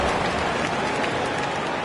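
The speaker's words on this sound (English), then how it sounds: "Give yourself a round of applause." Arena crowd applauding at a Utah basketball game, a dense steady wash of clapping and crowd noise, loud and continuous throughout.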